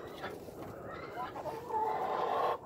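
Chickens cluck softly in a backyard coop beside a duck pond, a low, continuous murmur of fowl sounds that grows slightly busier toward the end.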